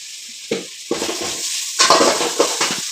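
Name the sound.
stirring ginger garlic paste with onions in pan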